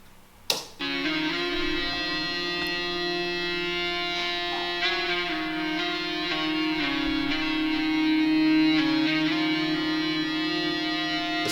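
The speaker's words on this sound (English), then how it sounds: "I'm just going to play it by itself so you can see what it sounds like. And this is the EBow." An EBow drives an electric guitar string into a smooth, bowed, string-like tone: after a sharp onset, a sustained harmonic drone swells steadily for several seconds, played alone with shifting overtones.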